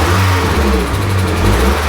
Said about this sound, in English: So we'll give it a quick rev